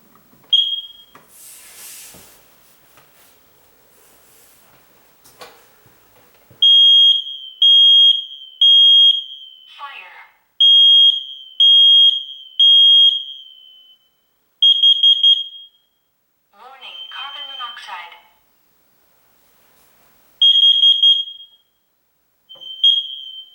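A smoke alarm sounds in loud, piercing bursts of three shrill beeps, repeating several times, with quieter rustling and handling noises between the bursts.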